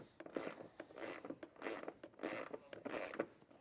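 A wrench ratchets in short bursts while a bolt is backed out of a steel bumper mount on a vehicle, about six quick scraping clicks close by and fairly quiet, with no talking.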